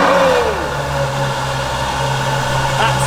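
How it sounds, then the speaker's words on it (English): A Ferrari engine runs close and loud, starting with a falling rev, then settling into a steady rumbling hum with a slight rise near the end. "That's a Ferrari. That is a Ferrari."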